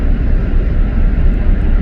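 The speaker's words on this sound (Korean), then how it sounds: "공항으로 비행기가 들어가고 있고" An airplane lands at Hilo airport on Hawaii's Big Island, a loud, continuous engine roar and rumble that holds steady throughout with no speech.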